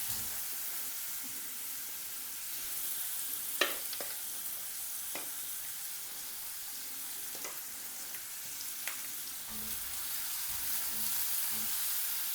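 Sliced onions with salt fry in a pan toward golden brown, a soft continuous sizzle broken by a few light clicks of stirring.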